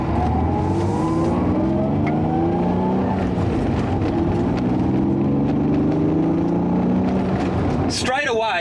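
A 1990 Honda NSX is driven hard, its engine revving up through repeated rising sweeps with gear changes between them. The sound is close and loud, with a brief sharp noise right at the end.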